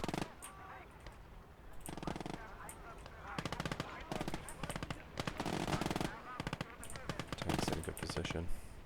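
Rapid machine gun bursts crackle loudly in a Call to Arms: Gates of Hell battle, several long rattling volleys with brief gaps, mixed with other distant gunfire.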